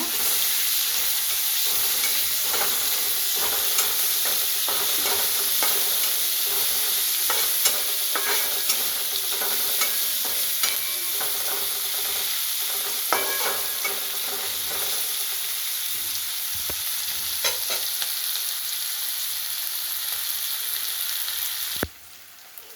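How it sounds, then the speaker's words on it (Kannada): Chopped garlic, onion and green chillies sizzle and fry steadily in a pan as palya is cooked, with continuous hissing and occasional stirring clicks, close and fairly loud throughout, no talking. "ಹೆಚ್ಚಿರೋ ಬೆಳ್ಳುಳ್ಳಿ, ಈರುಳ್ಳಿ, ಇಷ್ಟನ್ನು ಚೆನ್ನಾಗಿ ಹುರ್ಕೋಬೇಕೀಗ."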